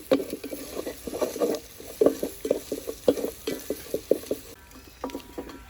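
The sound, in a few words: mutton added to masala, frying and stirring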